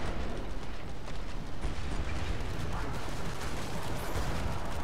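Dense, continuous rumbling blasts of explosions in the video game Killing Floor 2, Red Forest map, loud and sustained throughout without pause or voices.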